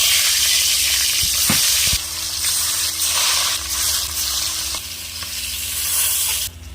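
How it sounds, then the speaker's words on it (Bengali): Fish sizzles loudly in hot mustard oil in a wok: a dense, continuous, close-up hiss with occasional louder pops and stirring scrapes, the sound cutting off abruptly near the end. "এবার আমি মাছগুলো ভেজে নেব।"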